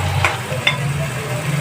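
Bay leaves and crushed red chilies frying in oil for a Bihari-style fish biryani, a gentle sizzle with two quick stirring clicks over a low steady hum.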